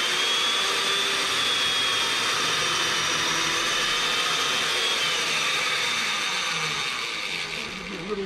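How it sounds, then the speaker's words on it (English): A Makita 7104L chain mortiser cuts a mortise, giving off a loud, steady whining roar that runs unbroken for the whole stretch and eases slightly at the very end, with no talking. "Cut our first mortiser with my own mortising machine."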